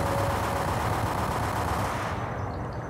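Sustained automatic gunfire in the Max Payne video game, a continuous loud rattle of rapid shots with a steady low rumble, ending abruptly near the close, with no voices.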